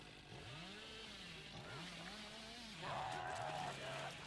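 A revving chainsaw from the Dead by Daylight killer rises and falls in pitch during a competitive league match, steady and fairly loud, with a sharper whine near the end and faint game noise underneath.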